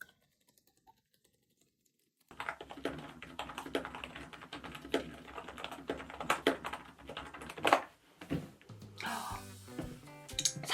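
After a couple of seconds of silence, rapid continuous typing on a silent mechanical keyboard begins, the keystrokes soft and muted, close and fairly quiet.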